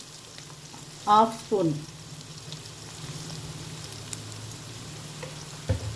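Bitter gourd frying with ginger garlic paste and spices keeps up a low steady sizzle in the pan, with someone speaking briefly over it and a few short clinks and scrapes.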